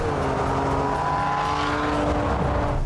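A Ferrari engine hums steadily and loudly at close range, with a slight rise in pitch like light revving, with no voices.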